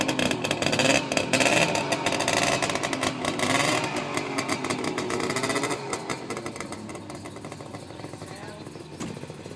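A cold 1965 Saab Monte Carlo engine starts up and runs with a busy, rattling two-stroke-like buzz, loud and close at first, then settling to a slightly quieter steady idle.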